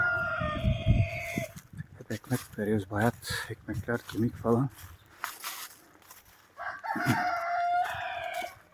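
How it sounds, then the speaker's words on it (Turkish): Chickens and a rooster cluck and crow inside a coop, with loud crowing at the start and again near the end, and someone talking between the calls. "Kümese geldim tavukları salacağım."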